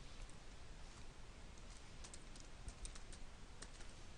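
Soft keystrokes on a computer keyboard tap out a short irregular run, faint and close, over a steady background hiss, with no talking.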